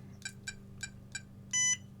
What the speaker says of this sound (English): you've got a pronounced beep at one end